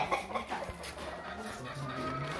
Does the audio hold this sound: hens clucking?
yes